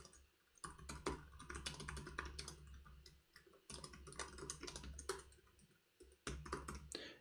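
Fast, steady typing on a computer keyboard, close and fairly quiet, with bursts of key clicks broken by two brief pauses.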